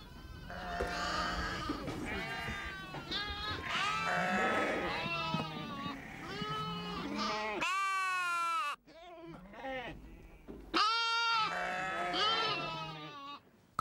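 A flock of lambs and sheep in the Atlas mountains bleating continuously, many overlapping high wavering calls close by, some loud single bleats standing out.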